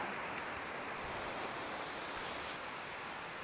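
Steady broadband rush of waves at a small beach, continuous and fairly even in loudness, with some wind buffeting on the microphone and no talking.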